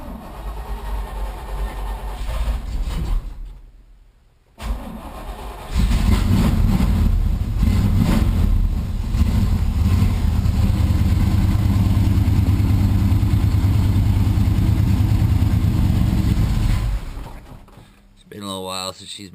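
An old vehicle with a faulty electric choke cranks, stumbles briefly, then catches and settles into a loud, rough, steady idle close by, with a short cut-out near the end.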